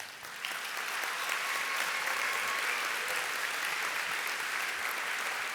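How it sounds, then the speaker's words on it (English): Audience at a 2024 gala applauds an honoree, Dr. Arana, with steady, dense clapping that starts abruptly and holds at an even level throughout, sounding full and moderately close. "So please join me in a round of applause for Dr. Arana."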